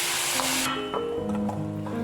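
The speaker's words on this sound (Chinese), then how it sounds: "全程用大火将牛肉块煎香，让牛肉块煎至定型。" Beef chunks searing in a hot pan over high heat, a loud steady sizzle and spray of oil filling the whole short stretch, close and continuous with no talking.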